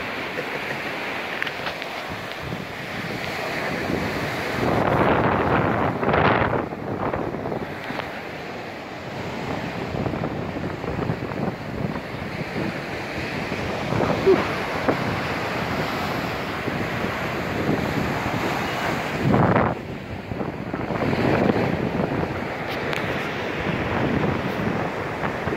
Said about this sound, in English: Gonna get wiped out by them waves, I reckon.